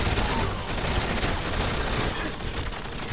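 Sustained gunfire from GoldenEye 007 Reloaded, a dense, steady stream of muffled shots rattling on at moderate volume with no pause and no talking.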